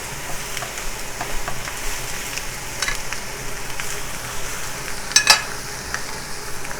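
Chicken thighs sizzle steadily in a crowded hot pan, a continuous close frying hiss with occasional louder pops and spatters, no voices.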